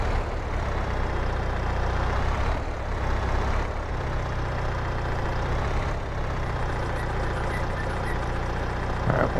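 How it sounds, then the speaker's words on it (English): A tractor with big flotation tyres idles in Farming Simulator 22, a steady low diesel rumble that stays loud and even throughout with slight shifts in tone and no talk over it. "I like the big flotation tires on it. I think it works good for the slurry and manure."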